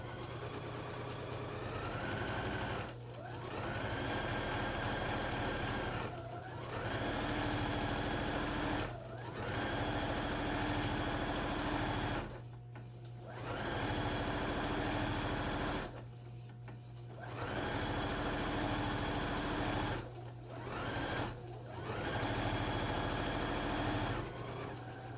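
Sewing machine stitching a pillowcase seam, a steady close mechanical whirr running in several bursts with brief pauses between them, no voices.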